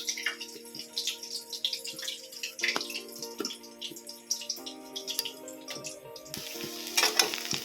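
Small fritters of flour, turmeric, salt and semolina fry in hot oil with a continuous close sizzle of crackles and pops, ending in a brief louder burst.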